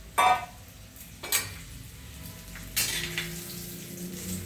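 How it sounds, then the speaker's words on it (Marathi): Papad fried in hot oil in a pan at home makes short bursts of crackling sizzle, three distinct loud spurts spaced a second or so apart, each settling into a quieter bubbling hiss. There is no talking. "मी हे पापड जर जेवढे अर्धवट कच्चट तळले जातील ना तेवढे तळून घेणार"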